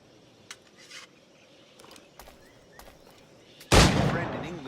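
A single firearm shot in the pirate-era video game Assassin's Creed Black Flag, one sharp loud blast with a short decaying tail after a stretch of quiet ambience and faint background sounds.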